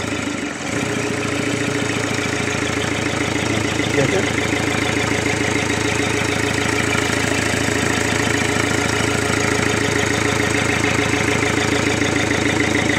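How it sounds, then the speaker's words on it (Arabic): A Renault Megane 2 1.5 engine idles steadily after its coolant was replaced, a loud, continuous close-up hum with a fine knocking pulse throughout. "هذه اول مره الموتور يخدم"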